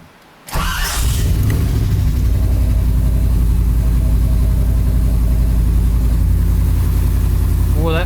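A muscle truck's V8 fitted with a Holley Sniper fuel injection cranks briefly, fires right up and settles into a loud, steady, rumbling idle close to the microphone.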